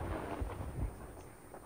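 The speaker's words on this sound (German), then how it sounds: "Oh oh, Gewitter." Low, muffled rumbling of thunder rolls faintly in the distance in the video game Sea of Thieves, with a couple of deeper thumps and no voices.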